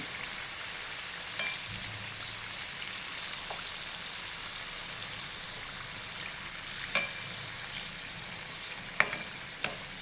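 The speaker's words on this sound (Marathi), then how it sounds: "दुसऱ्या बाजूने पण तळून घेऊया" Puran kadbu, sweet stuffed dumplings, deep-frying in oil over medium heat, a soft steady bubbling sizzle with occasional sharp pops and crackles, fairly quiet and without talk.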